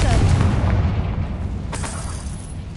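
A Confringo spell explosion in the video game Hogwarts Legacy: a loud, close boom with a heavy low-end rumble that decays over a few seconds, followed by a brief crackling burst.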